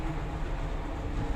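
An older lift at Dover Court runs with a steady low rumble and rattle resembling a train carriage, a faint continuous hum heard from inside the moving car.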